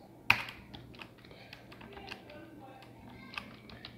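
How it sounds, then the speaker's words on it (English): Typing on a computer keyboard while writing a simple MQL5 hello-world program: quiet, close key clicks in an uneven rhythm, opening with one sharper keystroke, with a voice faintly underneath. "And then we type hello world again."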